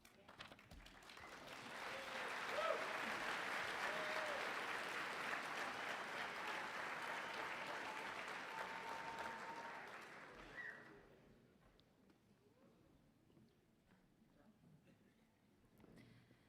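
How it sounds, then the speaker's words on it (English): A large commencement audience at a high school graduation applauds and cheers steadily for several seconds, a broad sustained roar of clapping that fades out, leaving quieter room noise behind. "please cheer loud and proud and celebrate your graduates when they are called"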